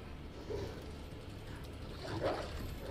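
A dog in the Resident Evil 2 Remake video game gives two short, faint yips or whimpers, one early and one near the end, over a low game-ambience rumble.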